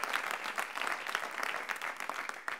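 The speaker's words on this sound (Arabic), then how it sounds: "زقفة للجمهور" A studio audience applauds steadily and loudly on a television comedy show, a dense continuous clatter of many hands clapping without any voices on top.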